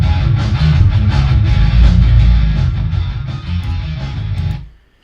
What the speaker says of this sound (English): So here's the sound of the bass section of 2 tape.